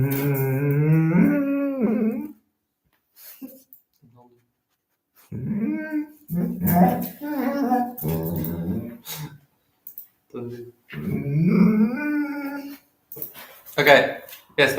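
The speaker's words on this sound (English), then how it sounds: "We can hear the dog." A dog whimpers and whines in several short bursts with pauses between them, close and fairly loud. Light clinks of keys or dishes sound in the background.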